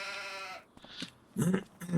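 A sheep bleats in Farming Simulator 25 on a Scottish Highlands farm, a clear wavering bleat up close, followed by shorter lamb-like bleats from a group of sheep.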